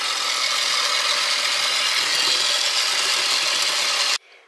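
A mixer beats eggs, sugar, oil and vanilla for a red velvet cake, a loud, steady close whirring that runs without a break for about four seconds and then cuts off abruptly.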